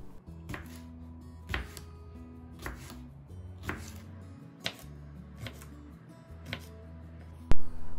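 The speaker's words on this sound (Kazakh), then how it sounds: "қиярымызды қиғаш етіп турап шығамыз" A knife slices cucumber on the diagonal for an anthill salad, about nine crisp chops against a board at an even, unhurried rhythm, close and clear with no talk.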